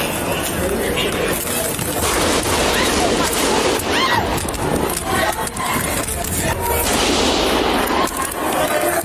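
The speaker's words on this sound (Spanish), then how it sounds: "el santuario se llenaría de disparos" Bursts of rapid rifle gunfire crack repeatedly through a chaotic scene in a sanctuary, mixed with shouting voices and crowd noise.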